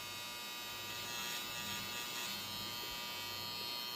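A King C. Gillette electric trimmer made by Braun runs with a steady, close, high-pitched motor buzz for the whole stretch, with no talking.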